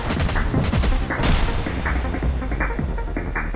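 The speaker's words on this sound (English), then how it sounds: "Gunshot." Gunshots ring out in a fighting video game as a burst of sharp cracks and impacts, loud and close, with repeated hits layered over a busy game soundtrack.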